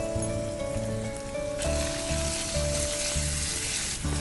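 Roughly chopped ginger, green chili and garlic sizzle steadily in hot oil with a pinch of asafoetida, a continuous close frying hiss that swells louder partway through as the pan is stirred, with faint background tones.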